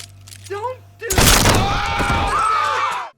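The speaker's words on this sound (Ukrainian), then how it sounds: "А далі випадковий постріл у голову." A sudden sharp film gunshot cuts in after a brief moment, followed by a bright, ringing crash and sustained noisy aftermath, with a short vocal sound before it.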